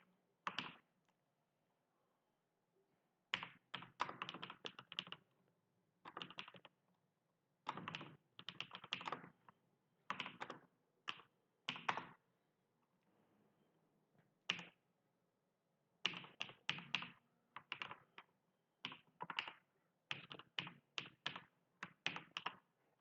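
Rapid bursts of keystrokes on a computer keyboard while C code is typed in Dev C++, close and fairly quiet, separated by short pauses, with no talking.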